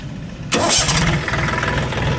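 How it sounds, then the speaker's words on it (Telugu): A tractor with a hydraulic lift fault cranks and fires up after a short quiet moment, then settles into a loud, steady idle close at hand. "బండి స్టార్ట్ చేసి హైడ్రాలిక్ లివర్ లేదు"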